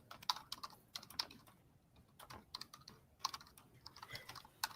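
Typing on a computer keyboard in a courtroom during a Florida trial, a faint, irregular patter of key taps in quick bursts with brief pauses, heard alone at low level.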